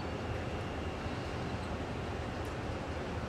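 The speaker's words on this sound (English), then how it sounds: "And just hear trains outside of my house right now." Real trains passing outside a house, a steady low rumble with broad noise heard from indoors at moderate distance, continuous and without talk.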